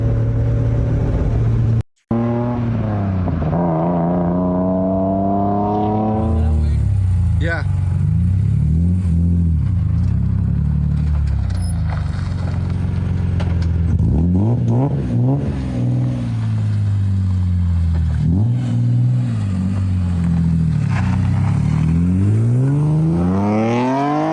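Aftermarket exhaust on a car engine revs loudly and repeatedly, rising and falling in pitch through several pulls, up close with an idle rumble between.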